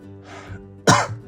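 A single sharp cough bursts out loud and close, preceded by a softer throat-clearing breath, with no talking.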